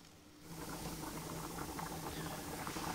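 Homemade bread croutons fry gently in a pan: after a quiet moment, a dense, even sizzling hiss starts and holds steady, close and moderately loud.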